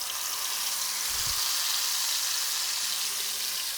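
Garlic paste sizzling in a kadai over a low gas flame, a steady, even frying hiss that carries on without a break, with one soft low thump partway through and no voices.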